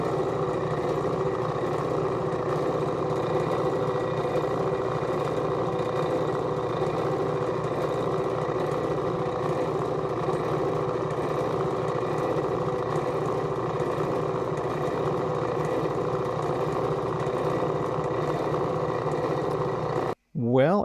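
A drill press motor whirs at a steady pitch for about twenty seconds, polishing a Seiko 6105 watch crystal with a small pad, a constant droning hum that cuts off abruptly at the end.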